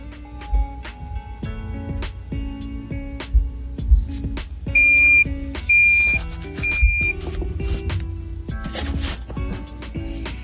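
Hat heat press machine timer, a short burst of high electronic beeps sounding in quick repeated pairs amid scattered handling clicks and thumps nearby.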